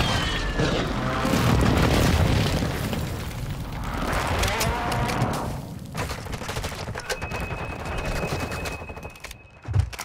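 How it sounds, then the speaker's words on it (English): Explosions from a friendly airstrike tear through a Call of Duty: Modern Warfare II match, a dense run of loud booms and gunfire rumbling continuously for several seconds, easing briefly mid-clip before another barrage, with a sharp blast near the end. "Friendly airstrike in the AO"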